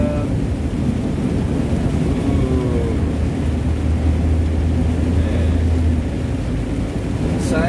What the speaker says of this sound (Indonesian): Dari tadi tuh hujan full,